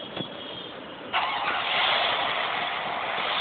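A car engine in the video game Free Fire cranks and catches with a sudden burst about a second in, then settles into a steady, loud idle hum.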